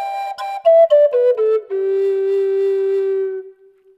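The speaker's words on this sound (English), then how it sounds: "But if you open that last hole and you start the scale from there and you play the pentatonic, now you have a major pentatonic" Woodsounds Eclipse double flute with its last hole open runs down a major pentatonic scale in short stepped notes, then holds a long steady low note that fades out, played close and alone.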